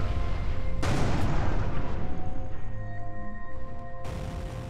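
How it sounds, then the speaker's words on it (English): A spaceship-shooter video game explosion in Everspace 2 booms loud and broad, then rumbles and crackles as it decays into a sustained fluttering roar with a tonal hum beneath. "Very pretty explosion."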